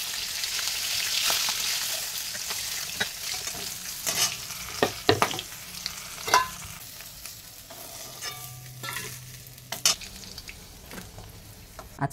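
Fish frying in hot oil in a home kitchen, with a steady crackling sizzle broken by sharper spits and pops and an occasional scrape, close and fairly loud, with no talk.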